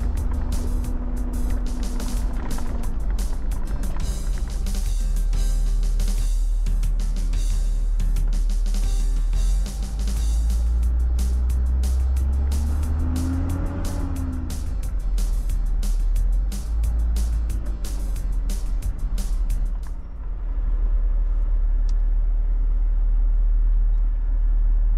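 A vehicle driving off-road on rough tracks in Bayankhongor province, Mongolia, with a constant loud engine drone and dense rattling and bumping over uneven ground, quieting to a smoother hum near the end.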